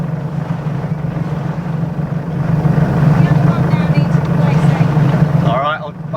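A sailboat's engine drones steadily as the boat motors along, a loud low hum that builds slightly midway, with voices heard faintly over it.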